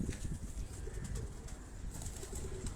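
Khaki pigeon cooing softly in a loft, a few low rounded coos over faint background rustle and scattered small knocks, fairly quiet and close.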